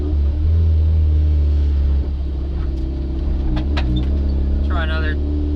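A 1994 turbocharged Mazda Miata engine runs at steady half throttle, a loud continuous low drone with slight roughness from a misfire, while people talk over it.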